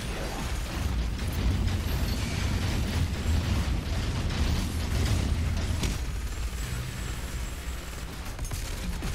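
Super Shotgun and Chain Gun fire in a video game, a dense, continuous barrage of mechanical bursts and pops layered over heavy low-end rumble, sustained loud from start to finish with no voices.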